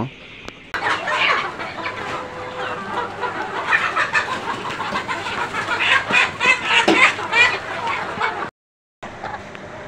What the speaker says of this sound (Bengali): সর্বপ্রথম আমি কিছু মুরগি ধরতেছি টুট কাটার জন্য